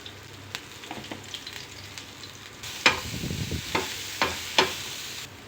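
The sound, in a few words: beans, carrot, chilli and onion sautéing with salt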